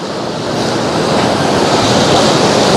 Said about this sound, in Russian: Вот какие брызги, смотрите, от волн.